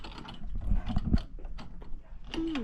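Close, loud clicking of a socket ratchet as it tightens the bolts on a custom steering wheel, a short burst of rapid pawl clicks followed by a few slower ratcheting turns.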